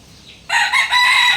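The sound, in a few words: pumpkin gamefowl rooster crowing at a chicken farm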